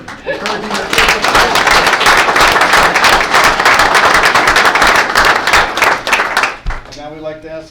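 An audience at a school board meeting applauds parents, a dense, loud burst of clapping that holds for several seconds and then fades, with a voice starting to talk at the end.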